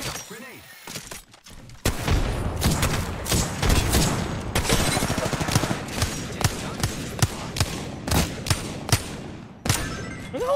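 Gunfire in Apex Legends, in a solo Pathfinder match: sharp shots crack in rapid bursts and single reports over a steady game background, with the spaced shots growing more regular toward the end.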